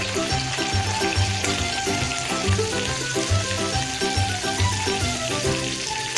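Garlic paste fries in hot oil and butter in a pan, giving a steady, close sizzle with dense crackling and popping that runs unbroken throughout.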